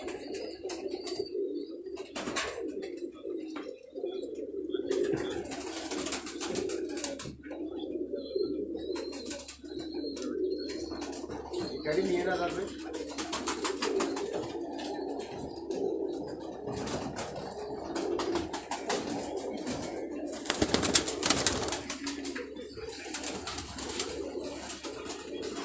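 Pigeons coo throughout in a rooftop pigeon show, a soft, steady, rolling cooing close by and continuous, with occasional brighter chirps and a rustle of wings, no voices.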